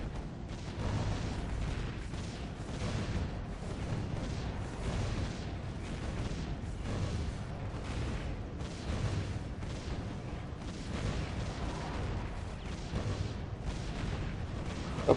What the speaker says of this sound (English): These cannons are wrecking faces here.